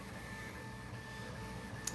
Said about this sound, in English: I recently purchased myself a 3D printer.